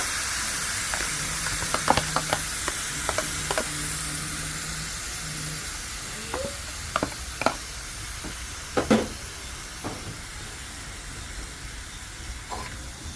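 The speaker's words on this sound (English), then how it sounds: "And I'm going to add some salt and a little sugar and fry it up." Minced beef frying in a pan with salt and a little sugar, a steady soft hiss of steam and sizzle with scattered clicks and scrapes of stirring, no voices.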